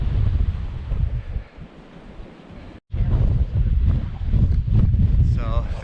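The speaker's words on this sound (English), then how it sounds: "Very windy up here today, but what an amazing view." Strong wind buffets the microphone at the top of Makapu'u Lighthouse Point on a Hawaiian coastal trail, a loud, continuous roar with a brief dropout midway and distant surf beneath.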